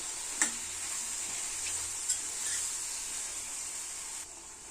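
Ginger garlic paste frying in a pan, a steady high sizzling hiss with a few soft clicks, no voices.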